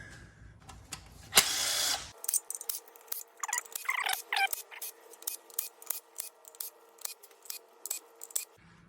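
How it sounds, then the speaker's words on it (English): A ratchet loosens the 10 mm oil pan bolts on a 2019 Kia Sportage 2.4. A brief louder burst of noise comes first, then rapid metallic clicking in repeated short bursts, close by with no talk. "Now I'm going to proceed to remove all the 10 millimeter bolts around the perimeter of the oil pan."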